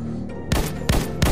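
Gunfire in the TipeX Trondol 3D racing game, three sharp, loud bursts of shots about a third of a second apart, each cutting in suddenly over a quieter game background.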